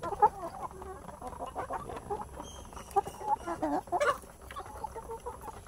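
A gamefowl hen, an Oriental breed, clucks in short repeated calls at close range, with a few sharper notes in between against a quiet farmyard background.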